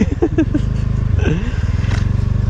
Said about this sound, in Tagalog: Sumisyeta yung motor mga kabady.